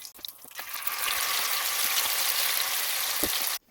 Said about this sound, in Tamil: இதே மாதிரி மீதியாக இருக்கிறதையே நாங்கள் எண்ணெயில் போட்டு எடுப்போம்